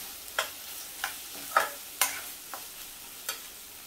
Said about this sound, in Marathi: मसाले आता मस्त तेल कांद्यामध्ये परतून झालेत.